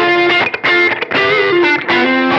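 An electric guitar played on the neck pickup through a Blues Breaker overdrive pedal into a twin-style amp sound, giving loud, warm, slightly distorted chords and notes that ring out continuously with short breaks between phrases.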